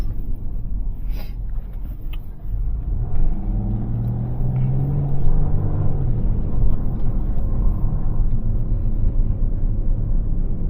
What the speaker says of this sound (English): Wheel bearings make a little bit of noise.